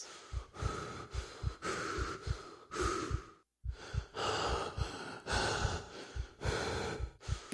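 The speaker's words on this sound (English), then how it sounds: "that's some seriously heavy breathing" Heavy, ragged breathing of a character buried alive in the horror game The Last Door, with repeated gasping inhales and sighing exhales in a steady rhythm, close and fairly loud, broken by one short pause.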